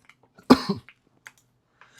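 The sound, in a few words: cough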